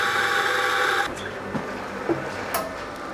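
An espresso machine making a double espresso gives a steady, close mechanical pump whir for about a second. It then cuts off, leaving a few faint clicks and clinks.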